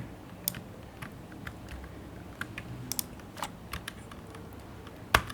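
Code is typed on a computer keyboard while building a dynamic list with HTML, CSS and JavaScript, heard as scattered close key clicks in short bursts with one louder final keystroke.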